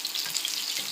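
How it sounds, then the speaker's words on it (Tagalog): Fish frying in oil in a pan, a steady close hiss and crackle of sizzling with no pauses. "Piniprito ko ng aking isda"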